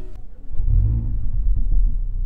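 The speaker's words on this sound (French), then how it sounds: "Quand vous démarrez le moteur, ça se passe comme ça." A Mercedes A45 AMG engine starts up with a loud, deep, close rumble that flares briefly and then settles into a heavy, throbbing idle.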